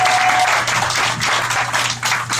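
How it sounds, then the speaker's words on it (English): A crowd claps loudly in sustained applause at a ribbon cutting, a dense wash of many hands that continues throughout. "let's just give another round of applause"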